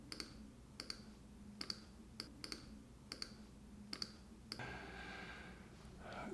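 Computer mouse clicking during Photoshop skin retouching, seven or eight crisp, evenly spaced clicks at close range, quiet, followed by a soft rustle.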